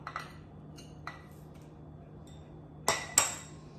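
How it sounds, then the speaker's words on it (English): Cottage cheese ice cream with cookie dough is scooped from a container into a bowl, with two sharp, close scrapes and clinks of spoon against the dish near the end, after a few faint earlier taps. "Scoop some in a bowl."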